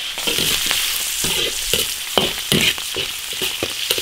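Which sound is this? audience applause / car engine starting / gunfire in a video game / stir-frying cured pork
stir-frying cured pork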